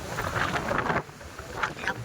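Strong outdoor wind in Barangay Carmen, buffeting the microphone in loud gusts that ease briefly midway before picking up again.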